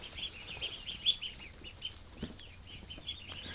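Young ducklings of the same age shuffle and scurry around a brooder set up in a bedroom, giving soft, intermittent rustles and faint high peeps and flutters close by, with no talking.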